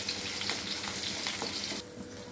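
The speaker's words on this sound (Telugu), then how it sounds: "ఇప్పుడు ఆనియన్స్ వేస్తున్నామండి. ఆనియన్స్ వేస్తున్నాము." Large pieces of onion fry in hot oil in a pan for a drumstick and mango curry, a loud steady sizzle close up with faint stirring scrapes, then the hiss drops slightly near the end.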